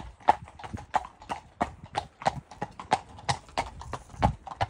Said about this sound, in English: And that clip-clop is my gorgeous Annie.